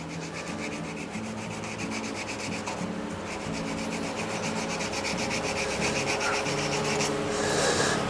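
Sandpaper rubs back and forth along a wooden handle in quick, even strokes, a close and fairly loud rasping scratch that repeats steadily throughout with no talking.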